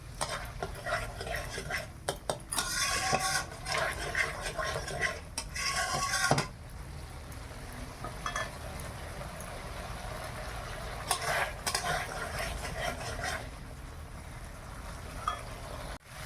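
A paste of ground cashew, melon seed and poppy seed frying with spices for prawn malai curry, with soft sizzling under repeated scraping and clinking of a spoon against the pan.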